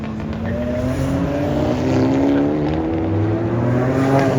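Forty-year-old car accelerating hard away from a Cars & Coffee meet in Minnesota, its engine note climbing steadily through the gears, loud and close, with no one talking over it.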